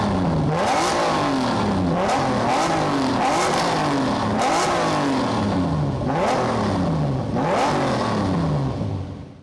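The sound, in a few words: 1998 Lamborghini Diablo SV engine revving through center exhaust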